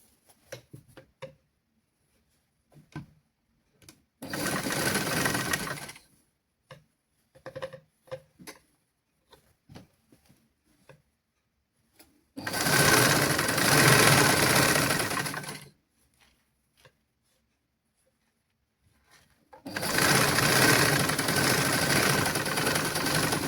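A sewing machine stitches fabric for children's pants in a tailoring class, running in three steady whirring bursts of a few seconds each, separated by quiet stretches of clicks and fabric handling.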